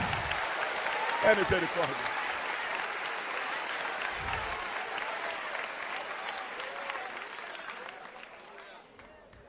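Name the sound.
congregation applause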